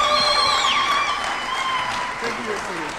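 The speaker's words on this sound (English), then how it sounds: "Let's give a warm clap for that." Audience applause at a formal event in Kenya, a steady wash of clapping lasting the full few seconds, with a voice speaking over it and briefly rising above the crowd.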